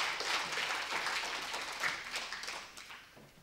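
Moderate applause from an audience at a ladies' training camp, steady clapping that gradually thins out toward the end.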